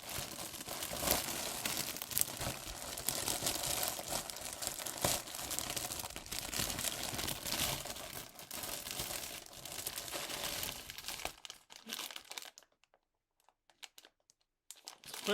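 A plastic bag of Temu Lego-style bricks crinkles and rustles up close as it is handled, with continuous crackling for about eleven seconds before falling to near silence with a few faint rustles.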